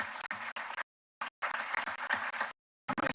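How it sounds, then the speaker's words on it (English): Applause from a crowd at a college commencement ceremony, in several loud bursts of clapping broken by brief silent gaps; no talking. "let's give her another round of applause"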